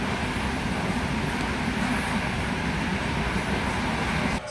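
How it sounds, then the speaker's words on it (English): A train rolls into a station on a rainy day, giving a steady, loud rumble of wheels and engine noise that holds throughout before cutting off abruptly at the end. "Train pulls in."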